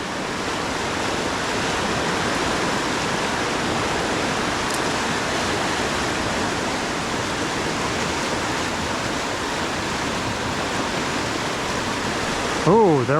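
Loud, steady rush of creek water flowing through an intense stretch, a continuous broadband roar that holds throughout, with a brief rustle near the end.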